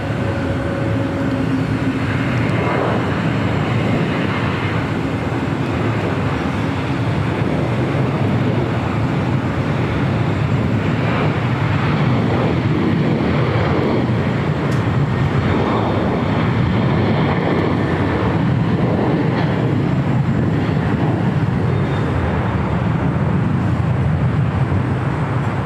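Qatar Airways Airbus A350-1000 at LAX, a loud continuous broadband jet roar that stays steady and close for the whole stretch, with no clear voices over it.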